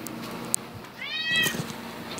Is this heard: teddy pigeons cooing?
no